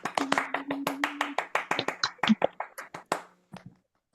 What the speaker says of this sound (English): actually let Kathryn hear a round of applause